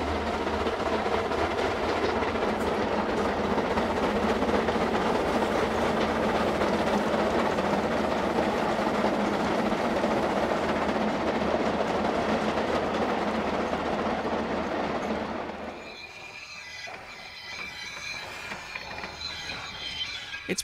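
A Hunslet quarry steam locomotive runs steadily nearby with a continuous rumble and rhythmic clatter on the rails, then abruptly drops away to quieter, lighter rolling sounds.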